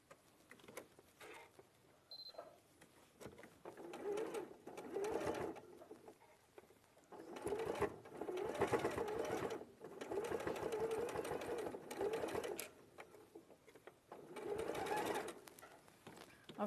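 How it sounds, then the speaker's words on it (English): Sewing machine stitching around piping on fabric, repeated runs of rapid mechanical whirring broken by short pauses, close and moderately loud, with faint cooing birds in the background. "Obviously, you can take your time sewing round."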